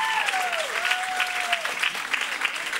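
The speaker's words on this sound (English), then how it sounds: "can we give them another massive round of applause?" A concert crowd in Paris applauds a band, a thick, sustained roar of clapping with a few whistles and shouts cutting through.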